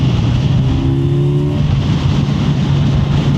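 A 2024 Kawasaki Ninja 1000 SX sport-touring motorcycle pulls hard under acceleration, its engine a loud, steady drone with a rising tone, heavy wind rush laid over it throughout.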